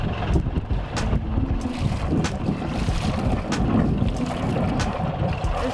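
A liveaboard sailboat's engine running steadily close by, a continuous low rumble mixed with wind noise and splashing, with no talking.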